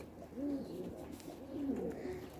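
Young pigeons, two weeks into seeing open air, coo softly in a couple of low rolling phrases close by, with quiet background noise.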